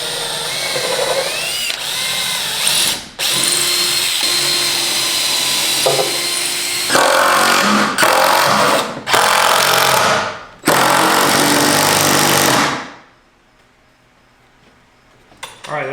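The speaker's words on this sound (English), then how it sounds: "We're going to go ahead and put a few screws in it." A power drill drives screws into a cheap DIY wooden desk in a series of loud, whirring bursts of a few seconds each. The bursts are separated by brief pauses, and the last one cuts off into near silence.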